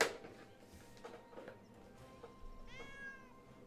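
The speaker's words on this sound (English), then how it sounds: "Meow. I know, cat, it's exciting." A house cat meows a few times indoors, soft, drawn-out calls spread across the moment, the last one clearer and more tonal, with faint room noise and no speech.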